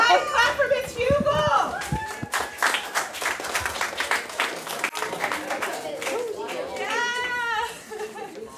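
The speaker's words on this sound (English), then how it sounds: "everybody clap for Miss Hugel!" Children in a school classroom clap and cheer for a teacher being honored, bursts of clapping mixed with excited young voices and an adult talking over them.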